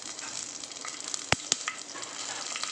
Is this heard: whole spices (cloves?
yes